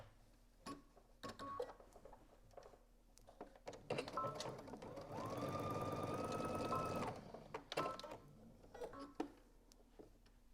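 A home sewing machine top stitching about 1.5 inches along a dress vent, a short whirring run of rapid stitches, preceded and followed by scattered clicks and handling taps, fairly quiet.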